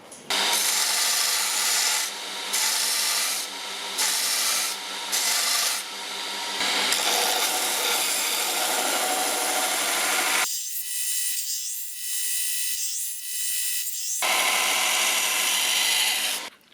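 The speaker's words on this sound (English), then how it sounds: "Anyways, grinding." A hardened San mai Damascus kitchen knife blade being ground, a loud continuous abrasive rasping whine in repeated passes with short breaks, the tone shifting near the end, close and without talk.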